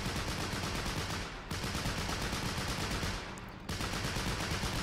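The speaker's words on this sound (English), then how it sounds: ".30 cal suppressing it first" Sustained .30 cal machine gun suppressing fire in the Men of War: Assault Squad WWII game, loud continuous rapid bursts with two brief breaks between long strings of shots.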